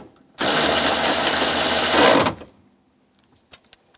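Power tool whirring loudly and close for about two seconds, spinning a nut down on a rear strut assembly of a 2004-2009 Toyota Prius, then cutting off to near silence with a few faint clicks.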